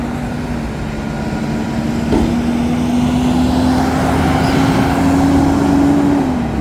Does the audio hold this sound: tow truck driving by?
yes